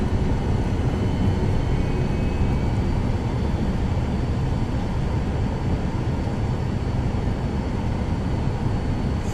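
A steady, dense engine roar from an aircraft taxiing off the runway in a flight simulator, constant and unchanging in level throughout with no talk.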